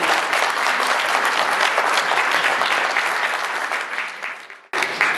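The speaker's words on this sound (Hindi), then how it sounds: "इन तीनों के लिए जबरदस्त ताली।" Loud, dense audience applause at a community cultural gathering in a civic centre hall, sustained and close before tapering off and briefly resuming.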